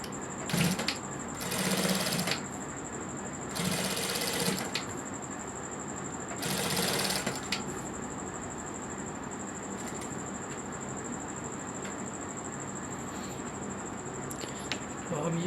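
A sewing machine stitches a kurti neck in several short bursts, each a second or two long, with quiet pauses between, close and moderately loud.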